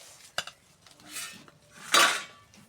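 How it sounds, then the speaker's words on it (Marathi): Cooked besan batter is spread onto a plate with a utensil, giving a few light metallic clinks and taps followed by a brief scraping smear, close and quiet, with no talk. "तर आता हे प्लेटमध्ये पसरून घेत आहेत."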